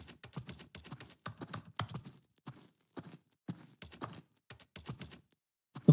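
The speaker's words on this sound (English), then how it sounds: "every time I interact, it makes a keyboard sound" Clicky keyboard typing from the video game The Stanley Parable Ultra Deluxe, rapid bursts of keystrokes in uneven clusters with short pauses, close and fairly quiet, ending on a sharper tap.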